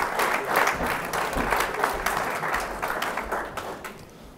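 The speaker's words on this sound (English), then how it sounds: "He deserves a hand clap." Wedding guests at a church ceremony in London break into lively applause, close and bright with distinct claps, gradually thinning out toward the end.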